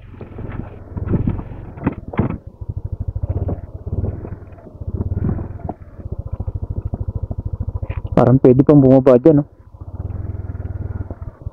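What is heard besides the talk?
motorcycle engine near a waterfall viewpoint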